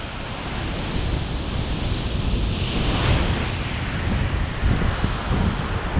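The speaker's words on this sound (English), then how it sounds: "The wild looking ocean." Rough ocean surf roars steadily around an island shore with broad wave wash and spray, mixed with wind buffeting the microphone; no voices.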